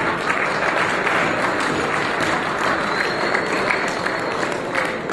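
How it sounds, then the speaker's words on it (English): Guests at the Hermes Expo awards dinner applaud, producing a loud, continuous roar of clapping and crowd noise that holds evenly throughout, with a murmur of voices mixed into the din. "So I think we should clap for that."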